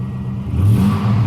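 A 2000 Chevrolet 1500 Z71 pickup truck engine revs up briefly after a fuel pump replacement, rising from a rough idle into a louder roar, close by.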